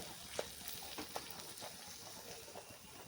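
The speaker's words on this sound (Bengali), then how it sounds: "এবার পেঁয়াজটা দিয়ে লো টু হাই ফ্লেমে খুব ভালো করে ভেজে নেব" Onion paste frying in a pan for egg korma over low to high flame, giving a soft, steady sizzle and hiss with occasional faint stirring clinks, quiet and close.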